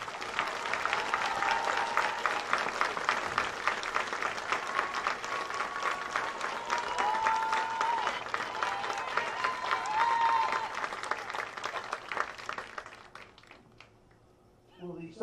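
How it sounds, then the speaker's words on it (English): A graduation crowd applauds the first row of graduates, sustained clapping filling the space while voices talk underneath, fading away near the end into quiet. "Let's have a round of applause for our first row of graduates."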